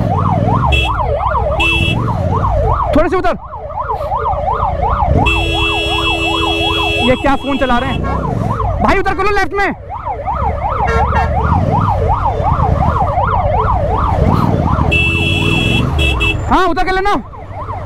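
A loud ambulance siren wails in a steady rising-and-falling pattern, stuck in NCR road traffic, with a voice shouting over it close by.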